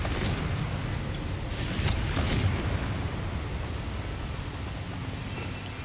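Explosive Confringo spell blasts in a video game, a sustained booming roar with a surge around two seconds that slowly trails off, loud and close, with no talking.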